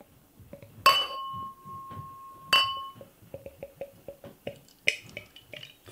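Norwegian imperial stout from Kinn Bryggeri clinks against a glass as it is poured in, with a long ringing glassy tone and a series of soft drips and splashes as the beer settles.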